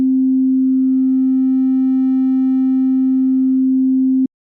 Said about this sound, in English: Let's select the first one, which is a sine wave that goes to a triangular wave and that can morph through the waveform using morph.